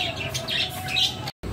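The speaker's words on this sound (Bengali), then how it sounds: "তো এই তিনটে পাখি এখন এই খাঁচাতেই থাকবে আপাতত" Three pet birds kept in a cage chirp and squawk in quick, bright bursts, close by and lively, with a short silent gap near the end.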